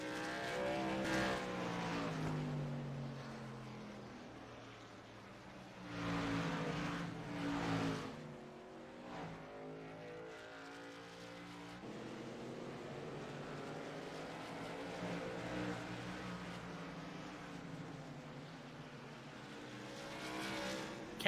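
Race trucks in a racing video game at North Wilkesboro roar steadily around the track, engines droning and rising as vehicles pass, with no talk over the continuous motor noise.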